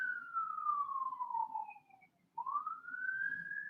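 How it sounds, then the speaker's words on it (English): A lone siren heard at a distance, sliding slowly downward, breaking off briefly, then rising again, with a faint low hum underneath. "That's a siren."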